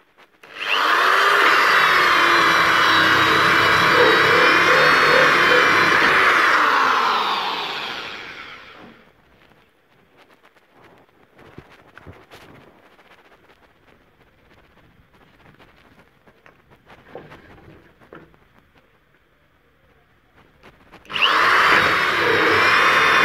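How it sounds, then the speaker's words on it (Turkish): A power tool with a 4 cm hole punch whines loudly as it cuts a hole in a hydroponic channel, runs about eight seconds, spins down to quiet handling noises, then starts again. "4 santimlik panç ile deliyorum."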